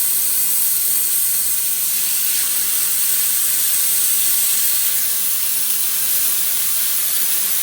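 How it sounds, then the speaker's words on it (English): Four deer burgers sizzle steadily in a hot skillet, a constant close, bright hiss that fills the whole stretch without a break. "now we're going to just drop the meat down in there. Drop all the 4 burgers."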